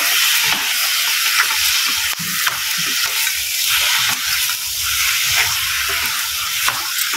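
Mutton liver is stirred with turmeric in a hot oiled pan, giving a loud, steady hissing sizzle up close with scraping of a spoon against the pan throughout.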